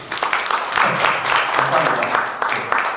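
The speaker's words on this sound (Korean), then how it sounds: "박수 한번 부탁드리겠습니다" Audience at a Korean public-sector cloud conference breaks into applause, a dense wash of clapping that swells and holds for a few seconds, with a voice faintly audible beneath.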